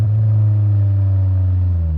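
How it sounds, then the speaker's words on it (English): A car's engine rumbles loudly and steadily at close range on a road, a deep continuous drone without a break. "that's a car in the middle of the road"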